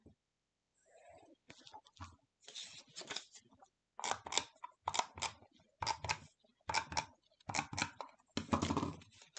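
Paper being cut with scissors on a cutting mat during scrapbooking, a series of close, crisp snipping bursts in an irregular rhythm, with a faint voice early on.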